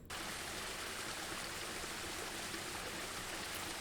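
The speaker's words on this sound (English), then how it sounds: "I've added this section here where you hear a forest stream of water" A continuous forest stream of water, a looping design element built in FMOD Studio, rushes and babbles steadily at close range with no pauses, no talking, and an even broadband wash from start to finish.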